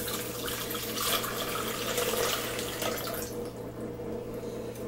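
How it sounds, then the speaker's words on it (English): Water runs steadily from a tap, a continuous splashing stream over a low hum, with no talking. "See, I pour my water in there."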